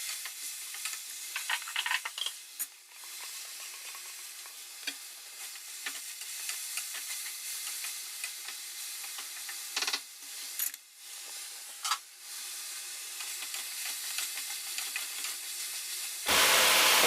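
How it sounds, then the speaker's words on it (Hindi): Moong dal roasting with spices in a pan makes a soft steady sizzle, with intermittent scraping stirs and a few louder spoon knocks near the end. "दो से 3 मिनट के लिए हम दाल को भूनेंगे मसाले के साथ।"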